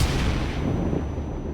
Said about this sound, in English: But now, grenade.